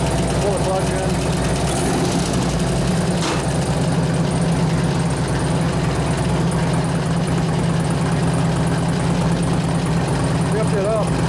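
A 2004 Harley-Davidson FLHT touring bike with a Twin Cam 88 engine, after a cam change and tensioner bearing repair, idles with a steady, loud, deep rumbling throb up close, continuous throughout, while someone talks over it.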